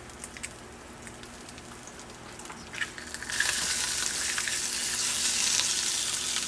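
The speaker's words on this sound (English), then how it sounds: "I'm cooking breakfast now for my fiance" Breakfast frying in a pan on a low-flame stove, quiet at first with faint ticks, then a sizzle that swells suddenly and holds steady and close to the end, no voices.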